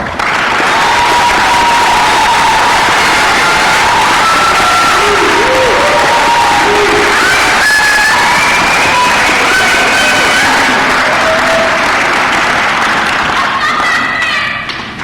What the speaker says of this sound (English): Let us give them once again a round of applause.